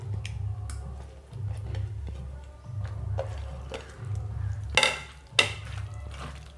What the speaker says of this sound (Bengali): মাছগুলো দিয়ে ভালোভাবে আবার মেখে নেব।